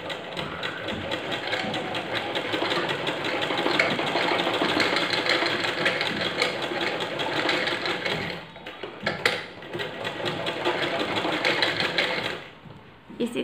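A sewing machine runs in a steady, continuous stitching burr while sewing the side seams of baby bloomers, close and fairly loud, with a brief slowdown near the end and no talking.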